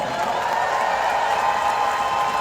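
Dense, steady applause from a large rally crowd inside an arena, a continuous wash of clapping with a faint hint of cheering and nothing standing out above it.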